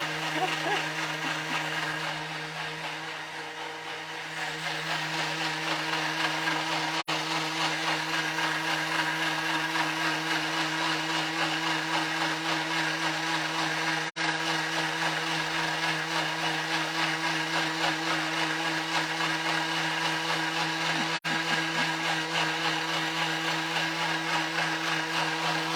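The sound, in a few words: blender blending pandan leaves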